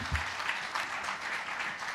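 Audience members at a Kenya coast tourism investment conference clap together in sustained, even applause that fills the room at moderate volume with no break.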